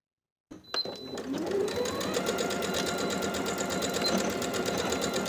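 A sewing machine runs a hem seam on a plaid wool jacket, starting after a brief silence and then stitching in a fast, even mechanical rattle, close and steady to the end.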